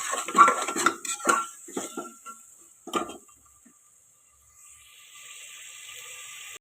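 Metal spoon clinking and scraping against a pan while stirring rice with turmeric and coriander powder, a burst of close clatter and a few knocks, then near quiet with a faint hiss.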